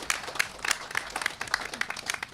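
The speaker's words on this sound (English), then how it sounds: "I'd like to ask for a round of applause." A crowd at a park grand opening claps in a brief, light round of applause, scattered hand claps at moderate distance.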